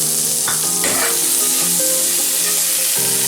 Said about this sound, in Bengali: পেঁয়াজটা অল্প ভাজা হয়ে গেছে, এখন আমি দিয়ে দিচ্ছি তার মধ্যে টমেটো